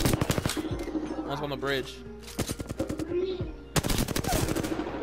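In a battle royale video game, rapid bursts of automatic gunfire crack loudly in quick strings at the start, middle and end, while a player talks briefly between them.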